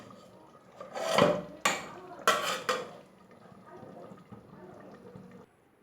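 A metal lid clanks onto a pot of poultry cooked with lemon leaves, giving several sharp clattering knocks close by, followed by quieter shuffling and a voice talking.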